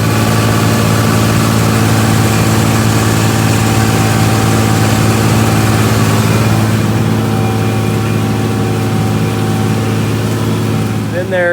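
A Case 5230 farm tractor with a 5.9 Cummins diesel engine runs steadily at idle, a loud, constant low drone and hum that fills the whole recording without pause.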